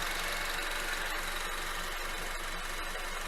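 A 2014 Honda Civic's 1.8 i-VTEC engine runs steadily at idle, a continuous close mechanical hum and whir with a faint ticking texture, heard alone without voices.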